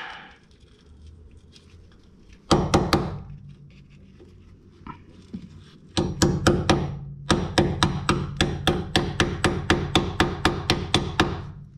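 Sharp metal hammer strikes drive a 5 mm hex bit into a bolt head on a 2010 Ford Escape strut. A short early cluster of blows is followed by a long, steady run of loud, close, evenly spaced hits.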